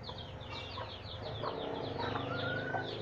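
Chickens cluck and chatter close by while being fed papaya peel, a busy run of short calls over a soft background murmur.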